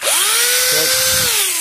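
An electric drill runs on a homemade power supply: a loud, close, continuous whine that winds up quickly, holds steady and then begins to slow as it fades out.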